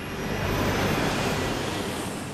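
Fokker 100 jet engines spooling at takeoff power, a loud, steady broadband roar that fills the whole stretch without a break.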